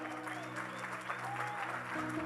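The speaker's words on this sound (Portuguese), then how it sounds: "Vamos aplaudir mais forte, gente." A church congregation in Birmingham applauding its newly installed pastors: faint, steady clapping that holds throughout.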